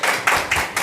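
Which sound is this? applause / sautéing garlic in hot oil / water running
applause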